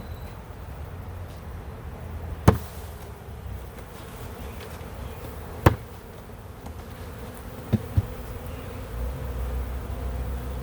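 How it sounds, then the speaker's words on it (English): Honeybees hum in a steady, close swarm around an open hive lid, with a few sharp knocks and clicks breaking through the drone. "Bees on the lid."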